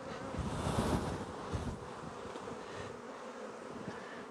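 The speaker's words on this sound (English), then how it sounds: "I'm going to shake the bees off it." Honey bees buzz loudly and steadily as they are shaken off a hive frame during an apiary check, a dense close insect hum with a brief surge at the shake.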